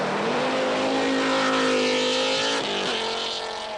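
Rally car on the 1986 Swedish Rally, engine revving hard and sustained with a rising tone, then a brief dip and gear change near the end, close and loud.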